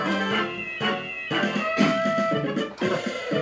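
Cartoonish cat meows from the WarioWare: Smooth Moves video game, several short mewing calls over a busy, bright game soundtrack, fairly loud and continuous for a few seconds.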